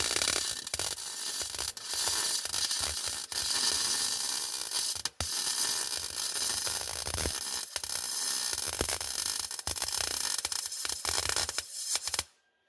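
Tack welding a patch panel through spots of rust on old sheet metal, a continuous crackling, sizzling arc close by that runs almost without a break and cuts off abruptly at the end.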